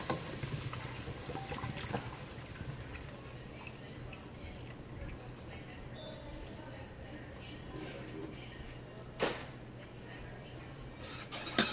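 Coconut milk pours from a can in a soft, steady trickle for several seconds, quiet and close, ending with a couple of faint taps.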